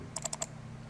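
Four quick sharp clicks, close and fairly quiet, in an even burst, like a computer mouse or keyboard being clicked during screen work, with a low hum underneath.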